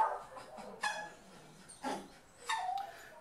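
A small dog in a kennel gives a few short, high yips and whimpers, three separate bursts spaced about a second apart, faint and fairly close with a quiet background.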